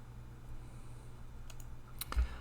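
A few clicks on a computer keyboard while entering a comet name into astronomy software, sparse light keystrokes over a quiet hum, with no talk.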